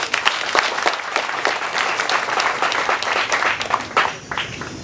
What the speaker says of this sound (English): Can you clap and he hears?